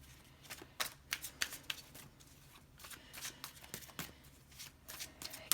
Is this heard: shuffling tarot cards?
yes